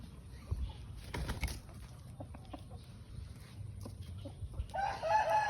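A young free-range rooster, about eleven months old, crows among a flock outdoors, with other chickens clucking around it; the crow rises near the end over a busy farmyard background.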